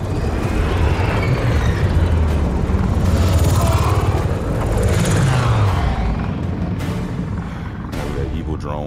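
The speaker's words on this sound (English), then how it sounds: "That evil drone was flying around the city." A hovering drone over the city in the Spider-Man 2 video game, a loud steady rotor-like whir with booming impacts and game effects, while voices talk over it.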